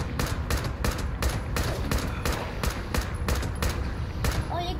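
Gunfire in Fallout 76, likely a shotgun, cracking out in a fast regular string of loud blasts about every third of a second, steady throughout with no talk.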